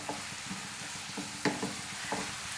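Sliced onion, green chillies and curry leaves frying in a pan while being stirred, a soft continuous sizzle broken by several light scraping and clinking strokes of the spoon at an irregular pace.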